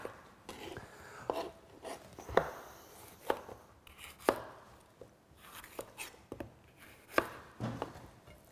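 A knife roughly dices a red pepper on a cutting board, making a series of sharp, irregular chopping taps close by with soft rustling between the strokes.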